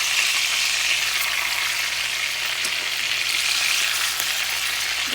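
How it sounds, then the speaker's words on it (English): Chicken thighs frying in a pan on a stovetop, a steady loud sizzle with faint bumps as the pieces are turned over. "So now we're going to flip the thighs over and get the other side, the golden brown."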